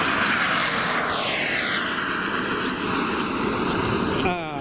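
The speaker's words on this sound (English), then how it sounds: "This flight that I just showed, it took off beautifully." An F-16 EDF model jet, converted from a turbine build, flies past with a loud whining ducted-fan roar whose pitch sweeps downward in a clear Doppler fly-by, staying strong throughout.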